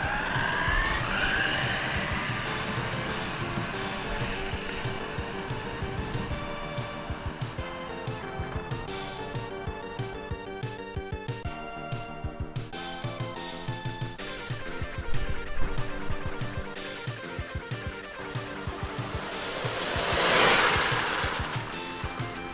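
A Tamiya TT02 RC car on a road gives off a shrill, continuously shifting electric motor whine that rises and falls as it speeds, with a brief surge and scrabbling burst near the end as it spins out.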